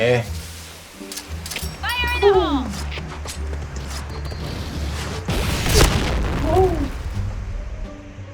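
A K400 grenade blows up in the tactical shooter Insurgency Sandstorm, a single booming blast standing out amid game ambience, with someone talking before and after.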